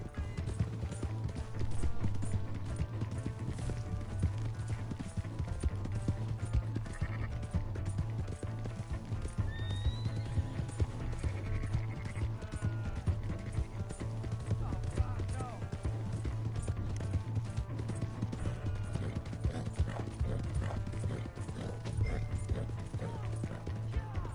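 Rhythmic hoofbeats of a galloping horse in Red Dead Redemption 2 with creaking and mechanical noises, under frequent speech and a steady low drone from the game soundtrack.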